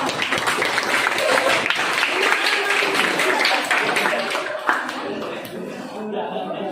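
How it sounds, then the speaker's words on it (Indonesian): Group applause in a classroom coaching session for a presenting team, steady clapping throughout with a few chuckles and voices mixed in, tapering near the end. "tepuk tangan dulu, kelompok Mario"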